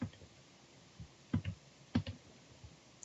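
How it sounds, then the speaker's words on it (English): Keys tapped on a Tobii Dynavox communication device keyboard: a few separate soft clicks in small clusters with pauses between them, close and quiet. "Here's our keyboard where we can type a message."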